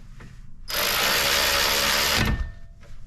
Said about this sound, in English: So now we're going to screw in the caliper bolts